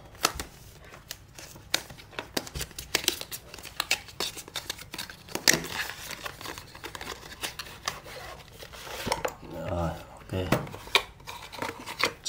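Packaging of a Xiaomi 50W power bank is unboxed with close, quiet cutting, scraping and rustling of cardboard and plastic in irregular bursts, while a person talks.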